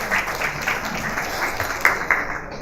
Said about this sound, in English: a round of applause for Rachel